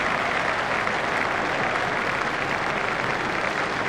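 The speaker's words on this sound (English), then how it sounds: "Crowd are standing to applaud him." A crowd applauds in the Cricket 2002 video game, a dense, steady wash of clapping that holds at an even level throughout with no voices over it.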